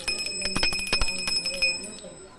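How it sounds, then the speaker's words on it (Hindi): Small metal bells on a cow's neck jingle and clank irregularly nearby, with light rustling movement and no voices. "गले की घंटी की मधुर ध्वनि"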